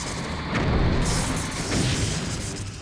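Torpedo launches and explosions in the Star Trek Bridge Commander space combat game: two heavy booming bursts, loud and full-bodied, each swelling then fading into a low rumbling wash with no talking.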